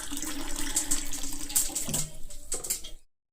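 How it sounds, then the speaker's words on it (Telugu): Two cups of water pour steadily into a cooking pan with a hollow splashing rush, close and fairly loud, then stop abruptly. "రెండు కప్పులు చొప్పున మనం వాటర్ తీసుకొని ఈ వాటర్ వేసుకుందాం"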